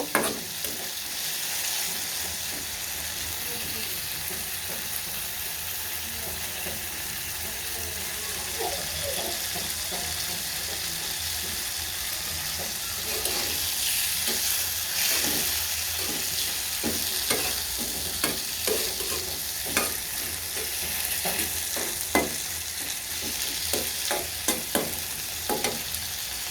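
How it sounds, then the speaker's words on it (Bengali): Large prawns sizzle steadily in a hot pan with scattered scrapes and clinks of stirring throughout, the frying growing busier toward the end, with no talking. "এখন চিংড়ি মাছ দিয়ে দিচ্ছি।"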